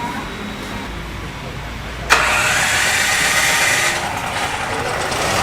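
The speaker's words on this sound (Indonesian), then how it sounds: "Yang pertama kita lihat olahan dari pelet seperti apa melalui mesin ini kemudian menjadi energi" An engine running on synthetic gas made from pellets starts abruptly partway through, then holds a loud, steady running drone after a quieter low hum.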